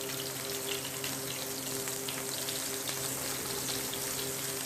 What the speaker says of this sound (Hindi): चिकन के पीसेस को एक एक करके मैं इसमें पैन में डालूंगी